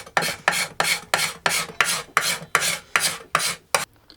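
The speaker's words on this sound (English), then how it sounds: "I've cut all the tops off now and I'm just cleaning them up with my scraper." A hand scraper rasps rhythmically across flush-cut oak chair leg tops with wedges on a Glasgow chair, about ten even strokes evenly spaced, close and fairly loud, with no talking.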